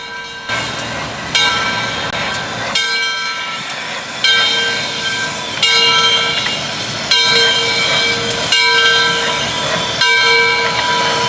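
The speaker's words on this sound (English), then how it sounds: "We soon arrive back in St. Louis, where we see our train pulling into the yard, passing by the roundhouse." A train pulls into a St. Louis rail yard past the roundhouse, its loud tonal horn sounding repeatedly in long, stepped blasts over a continuous rolling rumble.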